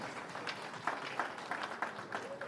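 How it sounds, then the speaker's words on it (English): Guests at a fundraising dinner dance applaud a woman rising from her seat, a steady, fairly soft patter of clapping from a modest crowd with a few sharper claps standing out. "A round of applause before I tell you who she is."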